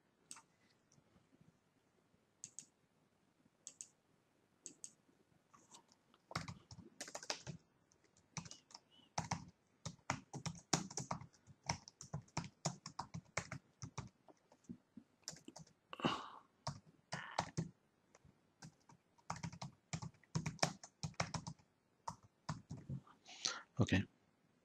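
Bursts of keystrokes on a computer keyboard, quiet and close, come in irregular clusters with pauses, growing busier in the second half, with soft speech now and then between the taps.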